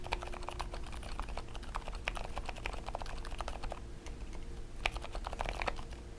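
Keystrokes on an NYM96 barebones mechanical keyboard, close-miked from a few inches away, clatter in quick, irregular bursts of crisp clicks, with a brief pause before a few final sharp taps.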